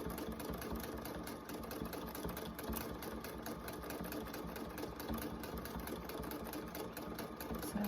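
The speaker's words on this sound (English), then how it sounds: "As I go down, I'm just following the shape of my pattern of that piece." Sewing machine stitching fabric appliqué, a quiet, fast, steady mechanical chatter of needle strokes running evenly throughout with no pauses or talking.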